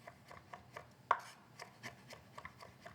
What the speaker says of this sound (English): So I chop it as small as I can, and then I go back over it again and chop it even smaller.